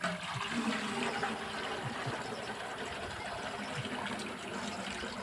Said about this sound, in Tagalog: lalagyan po muna ng tubig itong ating sprayer